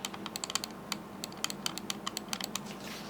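A quick series of sharp, light plastic clicks in irregular rhythm from the side back button of a Klim Ace rechargeable wireless gaming mouse, close and dry, with no talking.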